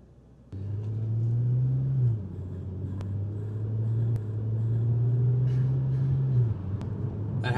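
Heavily modified Volkswagen Jetta running rich at a drag race, a loud deep exhaust rumble that holds steady and rises as the engine revs, heard from nearby.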